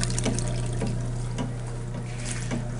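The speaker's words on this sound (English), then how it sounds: "the water flume directs the water" Water from the flume of an antique Maytag 30WP wringer washer runs back into the tub as a continuous close splashing flow over a low, steady mechanical hum.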